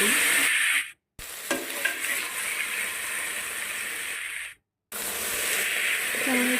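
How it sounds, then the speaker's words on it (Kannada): Cut brinjal and potato go into a pan with fried onion and masala and are stirred through it. Close scraping and sizzling run on steadily, broken by two brief silent gaps. "ಅದಾದಮೇಲೆ ನಾವು ಕಟ್ ಮಾಡಿ ಇಟ್ಕೊಂಡಿರೋಂಥ ಬದನೇಕಾಯಿ, ಆಲೂಗಡ್ಡೆನ ಹಾಕಿ ಚೆನ್ನಾಗಿ ಮಿಕ್ಸ್ ಮಾಡಿ."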